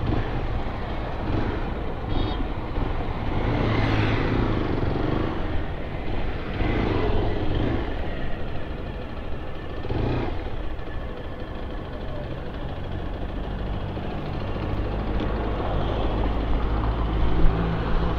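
A 2022 Zontes GK350 motorcycle rides steadily and swings through a U-turn, its engine a continuous loud drone with low rumble and wind rush, rising slightly near the end.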